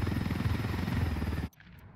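A helicopter in the shooter game Ghost Recon Wildlands thumps with loud, rapid rotor pulses up close, then cuts off abruptly, leaving near silence.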